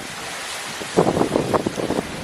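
Strong wind gusting across a microphone outdoors during cooking prep, a fairly loud rushing roar that swells in bursts through the second half with no talk.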